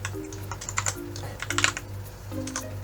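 Close, brisk typing on a computer keyboard, quick runs of crisp key clicks with short pauses, over a low steady hum.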